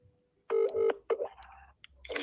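A phone number being tapped in for a cold call produces a few short, clipped dialing tones in quick succession, close and fairly quiet, followed by faint clicks and brief noises.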